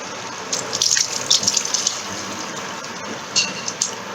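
Tap water runs steadily with a hissing flow, splashing and gurgling as it fills a pot of pink lentil dumpling curry with potatoes, with brief brighter spatters throughout.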